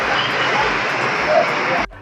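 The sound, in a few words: airplane at airport apron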